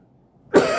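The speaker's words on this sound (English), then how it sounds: "it's been coughing a lot" A single sharp, close cough breaks a near-silent moment.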